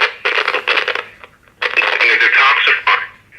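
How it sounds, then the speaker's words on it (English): Old radio switched on with a scratchy volume dial, crackly broadcast audio bursting in and cutting out in rough, uneven stretches, close and fairly loud. "If I switch it on, you'll actually hear it's pretty scratchy on its volume dial."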